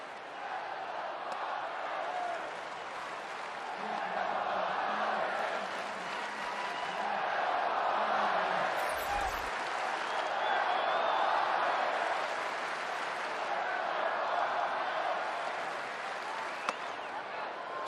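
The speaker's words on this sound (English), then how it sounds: "just hearing the crowd right now, doesn't it make you really appreciate what the fans are all about?" Baseball stadium crowd at a San Diego Padres vs Cincinnati Reds game in 2021, a steady, full roar of fans murmuring and cheering throughout, with a broadcaster's voice talking faintly beneath it.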